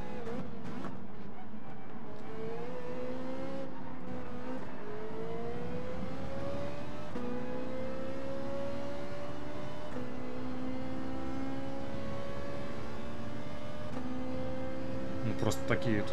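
Volkswagen Scirocco engine in Gran Turismo 7, front-wheel drive, revving up through gears in repeated rising whines with shifts, steady and fairly loud alongside other cars on a twisty track.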